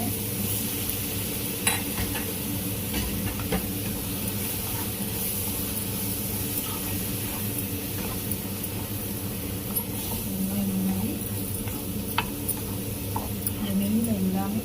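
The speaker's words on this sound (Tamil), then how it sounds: "நம்ம அரைச்சி வச்ச பீட்ரூட் போட்டு நல்லா வதக்குங்க" Ground beetroot sautéing in ghee in a pan for beetroot jam, a steady close sizzle with stirring scrapes throughout and a voice talking faintly over it.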